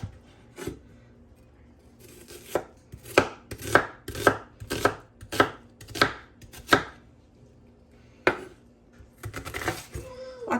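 A knife chops onions chunky on a cutting board in a run of about a dozen sharp, close thuds at a steady rhythm, then a pause and a few more cuts.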